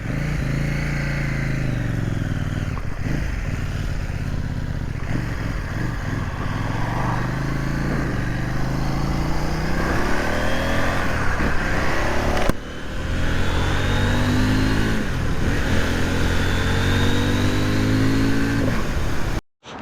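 A CFMOTO 800NK motorcycle engine revs repeatedly up close, the pitch climbing and falling in several rising sweeps with a brief dip partway through, then cuts off sharply at the end.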